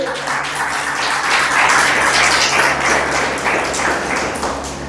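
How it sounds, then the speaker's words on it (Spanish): A church congregation applauds during a worship service, a loud, continuous wash of clapping over a low steady hum, lasting throughout. "Dale un aplauso al Señor, amén."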